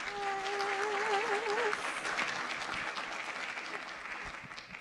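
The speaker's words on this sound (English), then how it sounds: "Can we all please give them a round of applause?" A board meeting audience gives a warm round of applause for elementary school students, a steady crowd of clapping hands, fairly distant, with a brief voice or tone heard early on.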